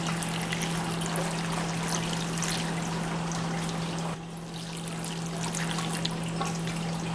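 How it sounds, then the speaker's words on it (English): A can of water pours into a cooking pot already holding coconut milk for a Christmas breadfruit oil down, a steady rushing splash lasting about seven seconds that softens slightly partway through. "And then I'm going to add another can of water"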